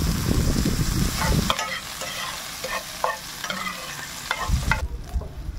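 Garlic fries in cooking oil in a pan for a simple home-cooked dish. A low sizzling rumble opens the clip, then scattered utensil scrapes and taps are heard before the sizzle returns near the end. No one speaks.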